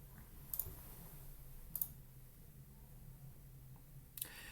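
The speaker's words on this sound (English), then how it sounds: "So let's click on one toponym and verify it." Three sharp, isolated mouse clicks spaced apart while a toponym is selected in annotation software, each a crisp tick over a quiet room hum with no talking.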